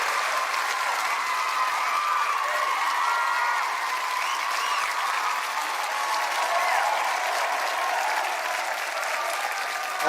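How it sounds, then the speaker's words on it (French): A talent-show audience applauds and cheers continuously, a broad, steady roar of clapping with scattered whoops rising above it, filling the room without pause. "Applaudissez pour"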